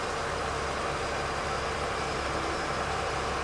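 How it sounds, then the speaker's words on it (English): A tractor engine runs slowly at a low, steady drone while winching up a bag, a continuous, even rumble with no voices. "We're running the tractor pretty slow right now."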